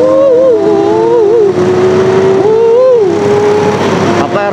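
A loud, steady motorcycle engine drones close by with a throaty exhaust, its pitch rising and falling slightly as it revs.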